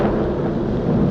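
A deep, loud rumble of thunder rolls on steadily as a sound effect in a Superman radio-style intro, heavy in the low end with no voices over it.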